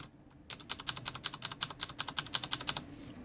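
Rapid typing on Cherry MX Blue mechanical keyboard switches, roughly two dozen crisp, clicky keystrokes in a fast even rhythm, close and clear with no talking over them.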